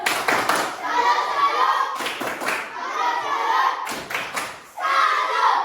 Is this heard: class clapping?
yes